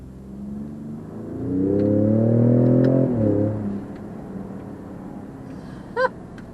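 A 2020 Ford F-150 Raptor pickup engine revs up hard and accelerates, a rising roar that peaks then eases off, heard from inside the cab.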